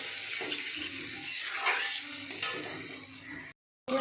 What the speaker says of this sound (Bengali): ভালো করে মশলা কষিয়ে নিরামিষ করবো